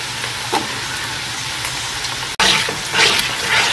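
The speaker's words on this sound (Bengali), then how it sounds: "এখন আমি এটা একটু লাল করে ভেজে নিতেছি।" Green chillies fry in hot oil in a pan for shahi biryani, giving a loud, steady close sizzle with a brief cut and a sharper burst of spattering as more goes in. No one speaks.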